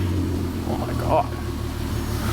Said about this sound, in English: It runs really bad and breaks up terribly, but it's idling great right now.